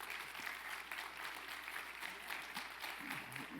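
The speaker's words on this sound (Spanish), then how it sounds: "denle un fuerte aplauso al Señor" A church congregation gives loud applause during a worship service, a continuous dense roar of clapping filling the hall, steady throughout with faint murmuring underneath.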